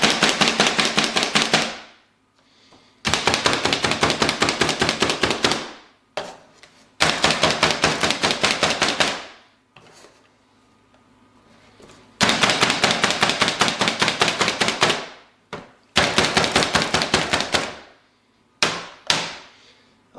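Bacon and other ingredients for cabbage roll stuffing are chopped with rapid, machine-like blows on a board in loud rhythmic bursts of about two seconds, separated by short pauses, with no talking.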